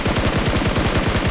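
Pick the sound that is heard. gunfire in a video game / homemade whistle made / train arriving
gunfire in a video game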